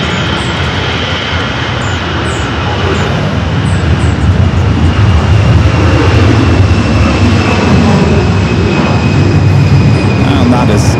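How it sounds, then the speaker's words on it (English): A jet airliner departs from runway 24 left at LAX, its engines producing a loud, sustained roar that builds gradually over the span, with faint higher tones above the rumble. "Let's go to a departure on the 24 left."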